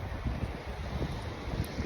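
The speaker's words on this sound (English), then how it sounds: "It's really cold out. The wind is blowing like crazy." A strong, cold wind blows outdoors, heard as a rough, buffeting rumble of wind noise against the microphone throughout.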